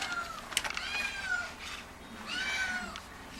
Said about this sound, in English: Here's another white kitty for adoption.